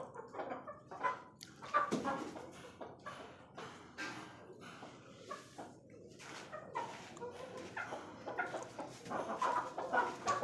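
Fighter chickens, young hens around six to seven months old, cluck and call in short, irregular bursts at a fairly low level, with occasional sharper squawks and soft background noise.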